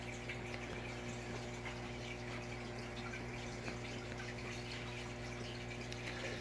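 Water pours steadily into an aquarium tank holding pool filter sand, a continuous low gushing and bubbling hum with a faint pump-like drone underneath, fairly quiet and unbroken with no talking.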